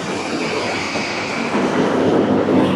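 A metro train rumbles past an elevated station in Bangkok with a steady broad roar, growing slightly louder toward the end, with no voices.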